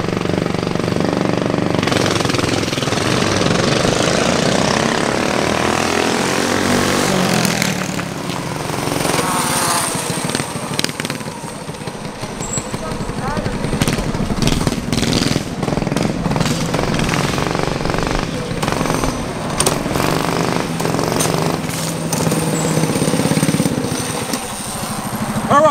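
Small Coleman 200 minibike engine revving hard through a backyard cookout grudge race, a loud continuous buzzing drone that rises and falls with throttle across the whole stretch, with no talk over it.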